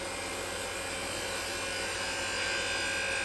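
A wood lathe spins a bottle stopper blank with a steady, fairly quiet mechanical whir and faint buzzing hum that holds constant throughout.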